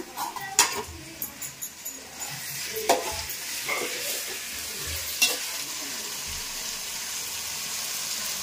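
Tomatoes with coarse salt stir and fry in a pan, with a soft steady sizzle broken by a few sharp clinks and scrapes of a utensil against the pan, fairly quiet and close.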